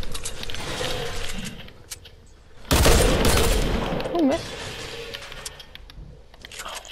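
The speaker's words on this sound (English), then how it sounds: "My only gun I can use is a hand cannon." A hand cannon fires in a video game duel with a loud blast and a burst of crackling shots in the middle, and there is game noise and mechanical clicks before and after.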